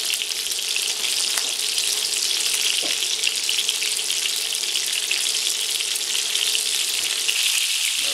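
Meat for Greek stifado par-cooks in a frying pan, throwing off a dense, loud, continuous sizzle with scattered pops of splatter and no voices.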